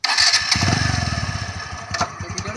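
A motorcycle engine catches and runs with a steady, close-up chugging pulse, its rhythm a little uneven for a few seconds, with no talk over it.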